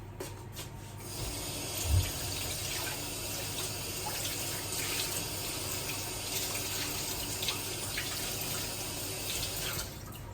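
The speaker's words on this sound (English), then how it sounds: "Wash my hands." Tap water runs steadily into a kitchen sink while hands are washed underneath, a continuous close splashing rush with brief rubbing and one soft bump near the start; no one speaks.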